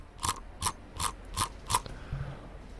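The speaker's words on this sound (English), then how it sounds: "You could either click it in and do a fairly standard scroll, which sounds like this," A computer mouse wheel scrolls in its notched mode, giving five evenly spaced, crisp ratcheting clicks at close range, then quiet.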